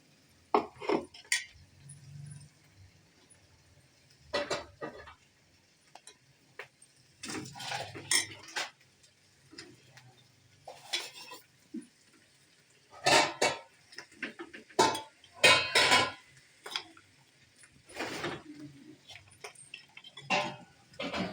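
Fried fish pieces dropped one by one into a pot, heard as scattered clinks and knocks of utensil on metal between quiet pauses, with no talk.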